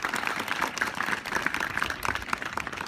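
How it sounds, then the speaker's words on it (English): Audience applause at a garden relief unveiling ceremony, a dense steady patter of many hands clapping that holds at an even level for the whole stretch, with no voices rising above it. "I think they deserve a round of applause"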